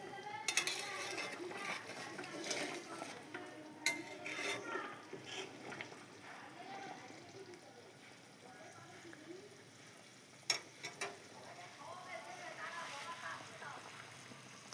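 Meat curry bubbling in a pot after being sautéed down, stirred now and then with a utensil, giving soft sizzling and occasional scrapes and clinks, while a person talks over it.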